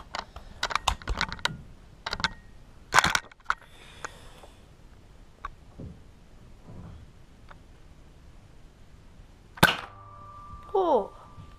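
Toy Nerf blaster being loaded and fired: a flurry of plastic clicks and clacks, a sharp snap near the middle, then a louder pop and rattling toward the end, all close by with no talk.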